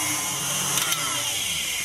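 Royal icing with lemon juice being whisked in a bowl, heard as a steady, continuous whirring hum that stays even throughout.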